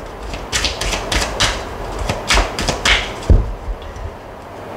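A deck of tarot cards being cut and shuffled, a run of quick crisp card slaps and riffles with a soft thump near the end, close and fairly loud, no talking.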